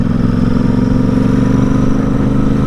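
A Royal Enfield 650 Interceptor with a French BAK aftermarket exhaust runs loud and steady nearby, its deep, even engine note holding a constant throb throughout with no talking.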